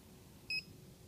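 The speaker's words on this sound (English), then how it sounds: "When you hear the beep showing that it has gone through" A library scanner emits one short, clean electronic beep as a book barcode is checked in, standing alone against a faint low room hum.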